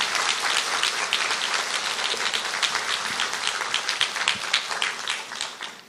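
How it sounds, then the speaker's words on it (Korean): A church congregation at a special revival meeting claps together in praise, a lively, slightly uneven applause with distinct individual claps, loud and steady throughout before easing at the close. "우리 주님께 영광의 박수 올려드리겠습니다."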